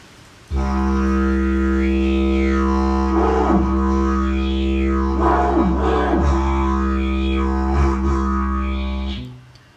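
A PVC didgeridoo plays a low, buzzing drone alone, steady throughout, with wavering vocal sweeps and fluttery bursts layered over it, ending abruptly.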